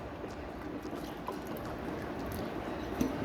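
Water poured from a glass into semolina in a large bowl, making a steady, continuous splashing trickle close by.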